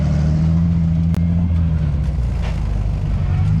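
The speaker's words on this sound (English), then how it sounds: "Smoking tire on the dirt." An LS-powered off-road buggy on dirt holds a loud, steady engine drone with a faint rising rev. A sharp click cuts through early, and brief crunching bursts follow.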